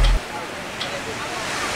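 Ocean surf washes on a beach, a continuous broad roar with wind buffeting the microphone, opening with a brief low thump.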